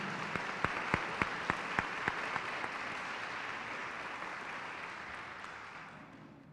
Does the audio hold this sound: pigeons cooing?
no